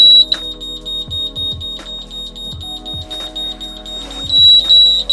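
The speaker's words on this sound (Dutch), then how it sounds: "Alarm opheffen." An electronic alarm on a sailboat's navigation electronics, during a passage through the Nord-Ostsee canal toward Rendsburg: rapid, shrill, repeated beeps pulse close and loud for several seconds over low onboard hum and a few knocks.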